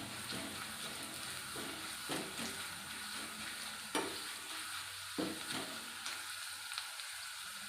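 Onions and chili powder stirred and frying in a pan for fish curry, a steady sizzle with intermittent scraping stirs at close range.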